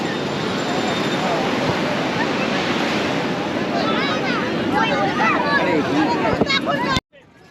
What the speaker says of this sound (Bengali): আমরা বিচের সামনে দাঁড়িয়ে আছি প্রচুর ঢেউ